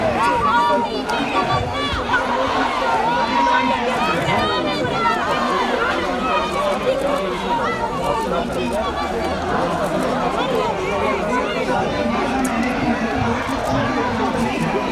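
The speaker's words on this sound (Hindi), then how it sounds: "भीड़ बहुत ही ज़्यादा है, वहाँ पहुँचना काफ़ी मुश्किल हो रहा है" Large crowd of protesters at Jantar Mantar in Delhi, a dense, continuous hubbub of many voices talking and calling out close by, with no single voice standing clear.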